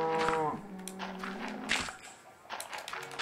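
A cow in the Minecraft video game gives a short moo, followed by soft game taps and footsteps, fairly quiet and alone.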